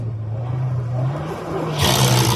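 Mitsubishi car with an LSD differential revving its engine while one wheel hangs suspended, a steady low engine drone that swells into a louder roar toward the end.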